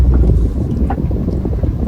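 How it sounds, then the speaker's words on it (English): Suzuki Jimny JB74 engine running just over idle at roughly 1000 to 1200 RPM while climbing off-road, a steady low rumble mixed with wind buffeting on the microphone, continuous and fairly loud throughout. "So we are literally just over idle, that 1000 RPM-ish"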